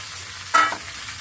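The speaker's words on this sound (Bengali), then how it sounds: "এবার ছেড়ে দিবে তরকারি।" Vegetables dropped into hot oil in a home kitchen, a single brief burst of sizzling that fades quickly, close by with no talking.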